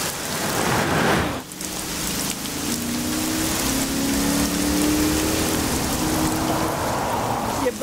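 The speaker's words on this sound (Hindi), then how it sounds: "एक तो आज बारिश भी बहुत तेज है" Heavy rain pouring down in a steady, dense hiss, loud and close throughout, with a brief dip in intensity early on and a low rumble beneath.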